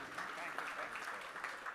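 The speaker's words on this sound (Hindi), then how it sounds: "इनके लिए जोरदार तालियां बजा दीजिए," Audience applause at a perfume launch gathering, a steady mass of clapping held at an even level, with voices mixed in beneath it.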